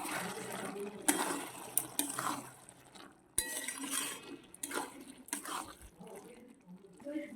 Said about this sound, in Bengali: এবার লাউ আর ডালটা আমি সিদ্ধ করেছিলাম, জলটা ঝরিয়ে নিয়েছি, এবার এতে দিয়ে দেবো।